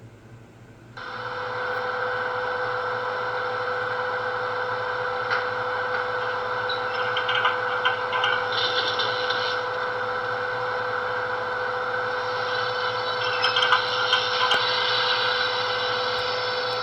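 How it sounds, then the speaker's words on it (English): A steady electric whine and hum from a Broadway Limited PRR GG1 model locomotive with DCC sound, with faint mechanical clicks and whirring of pantographs raising and lowering partway through and again near the end. "That sound was raising and lowering the pantographs."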